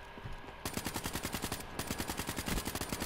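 Rapid automatic gunfire from a video game rattles off in a dense, steady stream of close, loud shots. There is a brief break partway through before the burst resumes.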